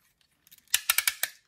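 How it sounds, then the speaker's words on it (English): Ratcheted click joints on a large LEGO mech shoulder snap through a quick run of sharp plastic clicks, a few faint ticks building to five louder, close, closely spaced clicks. "You've got your lateral shoulder movement built into with these ratcheted click joints, like that."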